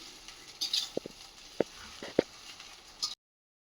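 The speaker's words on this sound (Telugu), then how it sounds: "ఇప్పుడు ఇది మొత్తం మంచిగా మిక్స్ చేసుకోవాలి" Egg rice being stirred in a pan at home, several sharp scraping clicks of a spoon against the pan spaced irregularly over a faint sizzle, close and fairly quiet, ending in silence.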